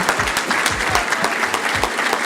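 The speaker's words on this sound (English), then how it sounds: "So let's give the students a round of applause." Loud, dense applause from a dinner audience honoring students at a university's distinguished chefs dinner, steady close clapping filling the room without pause.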